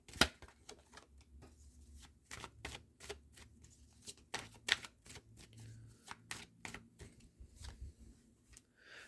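Tarot of Dreams cards are shuffled in a steady run of crisp riffling slaps and flutters that come close and fairly quiet, with small pauses between bursts.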